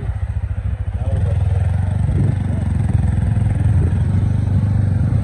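Motorcycles run on a rural hill road, a loud close engine drone that rumbles continuously and rises slightly as the machines accelerate, with faint clatter mixed in.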